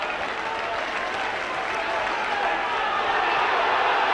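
A stadium crowd roars steadily in support of Leeds during a 1996 rugby league match against Sheffield, a broad continuous wash of cheering that swells slightly toward the end.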